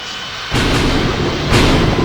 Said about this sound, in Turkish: yıldırımlar nasıl çarpıyorsa belli değil